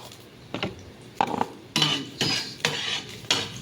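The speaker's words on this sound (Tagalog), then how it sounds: "gigisa ko na po yung munggo" Mung beans being sautéed in a pan, heard as a string of metal utensil scrapes and clinks against the pan in short bursts, moderately close, with no talk.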